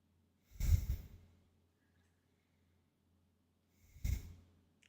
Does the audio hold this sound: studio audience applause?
no